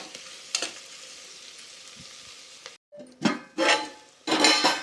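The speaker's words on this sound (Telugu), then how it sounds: "చక్కగా వేగిపోయినాయి చూడండి, చక్కగా వేగినాయి." Chicken pulao ingredients frying in hot oil in a pan, with a steady close sizzle and several louder bursts of stirring and spoon scraping against the metal near the end.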